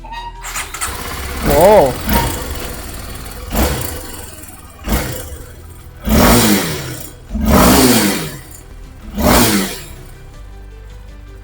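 A Kawasaki KLX 230 motorcycle with a stock exhaust starts up and gets revved in a series of short, rising throttle blips spaced a couple of seconds apart, loud and close, with a man's brief exclamation near the start.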